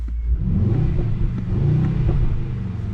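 A 2026 Mercedes GLE 63 S AMG coupe with a V8 engine drives on the German autobahn, its deep rumble rising and falling steadily in a loud, close cabin drone with no voices.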